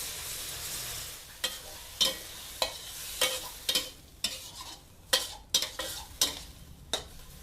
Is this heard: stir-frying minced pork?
yes